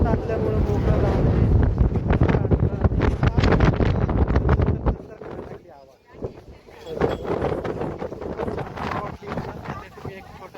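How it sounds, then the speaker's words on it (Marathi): Strong wind buffeting the microphone on a roadside trip in the Rameswaram and Madurai area, loud rumbling gusts that ease briefly midway and then return, with a person talking under the noise. "मी बोललेलं तुम्हाला बिलकुल ऐकायला येणार नाहीये कारण हवा तशी भयंकर हवा"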